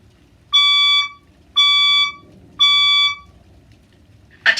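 Fire alarm in a science room sounding during a test, giving three loud, evenly spaced electronic tones about half a second apart, each holding steady before cutting off.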